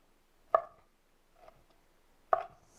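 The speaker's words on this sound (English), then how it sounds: "So that's why I'm cutting shrimps like this." Shrimp being cut into chunks with a knife on a board: two sharp, close chops about two seconds apart, with a softer tap between them in an otherwise quiet space.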